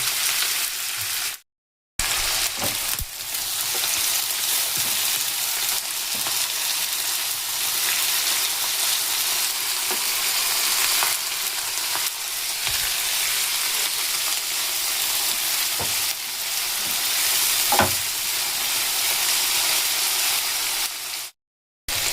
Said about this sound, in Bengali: পেঁয়াজগুলো দেখুন খুব সুন্দর ভাজা হয়ে গেছে এর থেকে ভাজলে কিন্তু পুড়ে যাবে